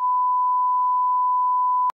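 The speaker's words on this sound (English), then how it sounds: "I'm sorry that you have to bleep this out" A censor bleep, a single steady pure tone held for about two seconds that then cuts off sharply.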